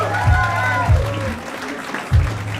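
Applause from a comedy club audience at a live stand-up competition heat, steady clapping under a loud host voice that talks and booms over it throughout.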